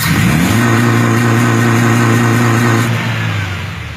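A Mazda Lantis 1.8 engine revs up and holds steady against a fuel cut limiter, a loud close droning tone that stays flat before easing off at the end.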